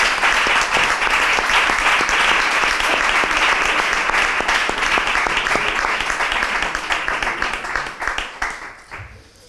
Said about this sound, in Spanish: un fuerte aplauso para ti